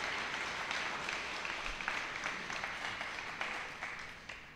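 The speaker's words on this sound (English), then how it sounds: "And round of applause to the Loudoun County Fire and Rescue and their leadership." Audience at a peace gathering honoring law enforcement and public safety giving a round of applause, a soft, distant-sounding continuous clapping wash that slowly fades toward the end.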